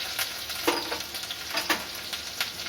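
Ginger and garlic fry with chopped onion in a pan, a close, steady sizzle broken by a few light scraping stirs.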